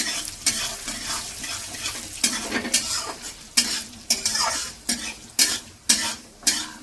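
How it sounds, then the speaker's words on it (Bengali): Mung dal being fried in a pan until reddish, a steady sizzle broken by frequent scraping and clinking strokes of a spatula against the metal pan, close up, with no voices. "এই মুগ ডালটা একটু লাল করে ভাজবেন।"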